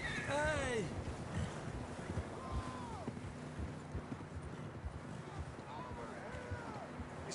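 Horses' hooves clip-clopping outdoors at a steady pace amid blustery wind, with scattered shouted voices over the moderately faint, rhythmic hoofbeats.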